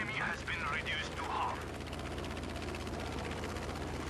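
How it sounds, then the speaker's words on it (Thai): Rapid anti-aircraft gunfire rattles steadily in Battlefield V, aimed at a Japanese fighter plane over Iwo Jima. A dense, fast stream of shots runs under an engine drone, with a voice briefly heard at the start. "มีปตอพยายามยิงใส่ผมอยู่นะครับ แล้วก็ยิงใส่ต่อเนื่องด้วย"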